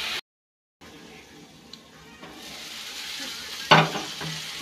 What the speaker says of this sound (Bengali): এখন ভেজে নিই মশলাটা।